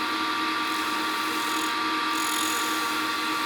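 A homemade grinder-style sharpening system drones steadily as a wood lathe chisel is passed up and down against it, an even, continuous high whine with no breaks or talk.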